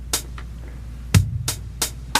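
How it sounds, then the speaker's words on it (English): Sparse drum machine hits: a low kick thump with crisp hi-hat ticks in a loose triplet pattern, dry and close. "here's my little drum machine playing"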